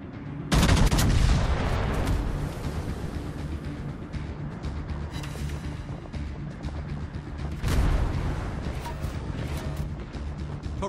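Naval guns on the warship Lenin in World of Warships fire two heavy, booming salvos several seconds apart, each with a loud crack and a long rolling rumble between them.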